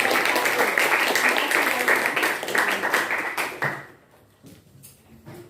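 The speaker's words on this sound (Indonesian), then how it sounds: "saya ucapkan tepuk tangan dulu untuk kelompok 1" A classroom group applauds classmates from group 1 during a lesson, a brisk wave of many hands clapping closely that fades out over the last second and a half, leaving a few scattered taps.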